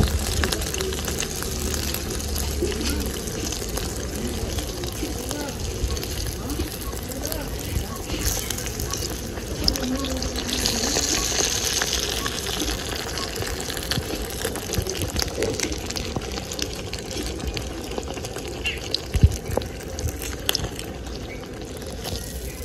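Malpua batter frying in hot oil for a Janmashtami recipe, a steady broad bubbling sizzle running throughout, close and fairly loud, with a few clinks near the end.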